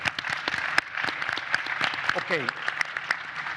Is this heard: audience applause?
yes